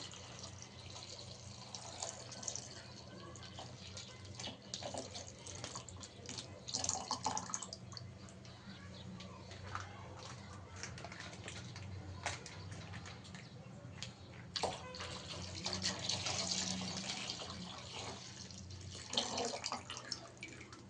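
A litre of milk pours into a pan to make palathalikalu, a milk-based sweet. It gives a continuous soft splashing, burbling stream with small surges, heard close for about twenty seconds.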